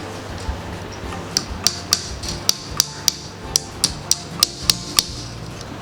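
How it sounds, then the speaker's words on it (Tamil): Hammer blows drive nails into a wooden rafter for a homemade hen hut: about a dozen sharp, evenly spaced strikes over a steady low background hum. "ஆணி அடித்து மடித்து விட்டுருக்கோம்."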